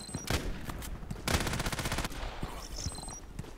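Rapid bursts of automatic gunfire from an online shooter, Contract Wars, crackle loudly in two dense volleys with brief gaps between them, with no talking.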